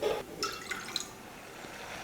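Water trickles and drips steadily into a pot on the stove in a home kitchen, a faint, continuous light splashing with a few brighter drip accents, heard close and alone.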